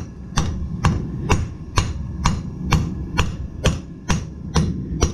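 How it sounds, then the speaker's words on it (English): Hammers strike metal at a steady, even rhythm, about ten sharp ringing blows, close and loud with no talk. "I gotta switch back and forth between the hammers real fast."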